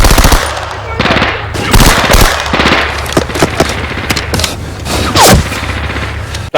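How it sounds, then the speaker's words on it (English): Submachine gun fire from the Finnish war film The Unknown Soldier comes in loud, rapid bursts of automatic shots with sharp cracks between them, and voices are heard faintly beneath the gunfire. "He has the submachine gun. He's going to take on the enemy troops."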